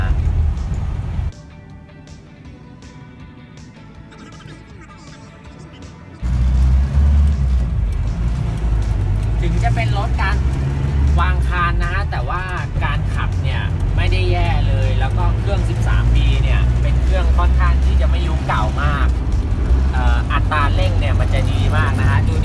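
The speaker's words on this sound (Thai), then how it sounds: "แล้วเดี๋ยวมาดูกันเลยว่าการขับเนี่ยเป็นไง คันนี้เป็นเกียร์ธรรมดานะ" Toyota Land Cruiser BJ40 with a manual gearbox driving on the road, its steady engine and road rumble loud and continuous throughout, with someone talking over it for most of the run.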